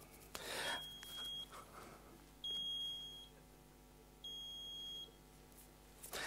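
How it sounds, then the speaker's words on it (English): A Raspberry Pi-driven electronic buzzer sounds three times, each a steady high-pitched tone lasting under a second, separated by short pauses over a quiet room background. "it should sound three times the buzzer."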